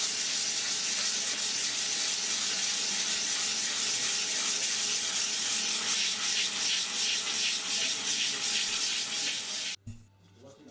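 Steady hand sanding with sandpaper, a continuous dense scratchy rasp of even rhythm that holds loud and close for nearly ten seconds and then stops abruptly, leaving brief quiet shuffling at the end.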